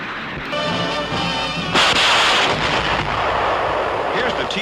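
A rocket barrage fired from M4 Sherman medium tank rocket launchers rumbles and booms continuously, with a sharper blast burst partway through, loud and dense, while a narrator talks over it.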